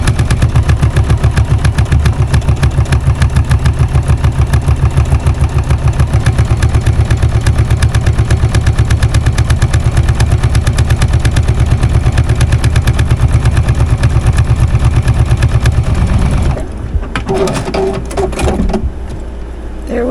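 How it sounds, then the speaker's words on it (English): A sewing machine stitches fabric in a loud, rapid, even run of needle strokes for about sixteen seconds, then stops abruptly, leaving a few faint handling clicks. "this one I'm gonna stitch right down the center"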